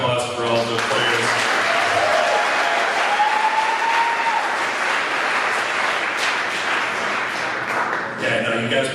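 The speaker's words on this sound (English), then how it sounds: "Let me get one last round of applause for all the players." Guests at a high school boys lacrosse season banquet dinner give the players a sustained round of applause, dense and steady, with talk and a few voices rising over the clapping near the start and end.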